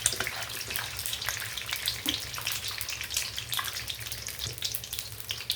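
An egg frying slowly in a pan over low heat gives a steady, close crackling sizzle with small popping bursts throughout, no voices.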